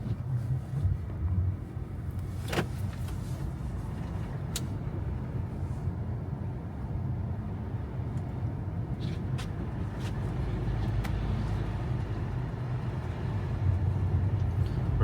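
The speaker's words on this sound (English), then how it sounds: "This is a 2024 Honda Civic EXL hatchback." A 2024 Honda Civic EX-L hatchback on stock wheels and tires drives slowly through unplowed snow while it keeps snowing, giving a steady low rumble of engine and road noise with a few brief clicks and knocks.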